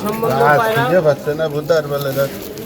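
Pigeons cooing at a pigeon market in Jessore, with low, rolling coos repeating close by throughout.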